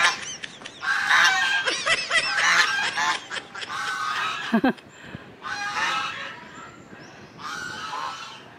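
Loud, nasal duck quacks ring out close by in busy bursts, with a short lull midway before more quacks.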